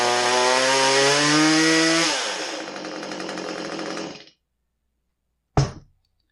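A Stihl MS192T chainsaw low on power, suspected of a plugged fuel filter or carburetor restriction, runs loud at wide-open throttle, then its pitch sags and it winds down to silence, followed by one short sharp knock.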